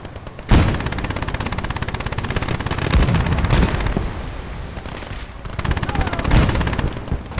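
Machine gun fire, including a Browning, in the battle video game Kelly's Heroes: dense, rapid bursts of gunfire mixed with other battlefield shots, loud and continuous throughout.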